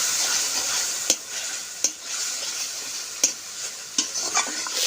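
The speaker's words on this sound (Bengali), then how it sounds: "আর মশলাটা আমি কষে নেব" Turmeric, cinnamon, and black and white cardamom fry in oil for a spicy crab curry, a steady close sizzle broken by several sharp spatter pops.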